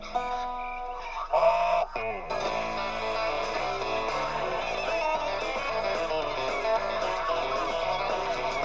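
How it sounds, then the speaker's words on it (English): A gaggle of geese in the countryside honks and cackles continuously, a dense chorus of overlapping calls with a few sharp louder squawks early on. "This is a flock of geese. Or more correctly, it's a gaggle of geese."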